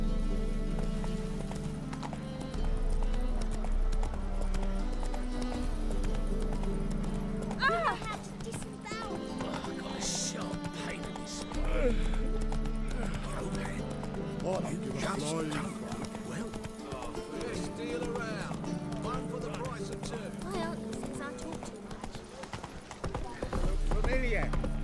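Hoofbeats of Roach, Geralt's horse in The Witcher 3, clop along steadily under a dense orchestral score, with a short whinny and other game sounds woven through the mix.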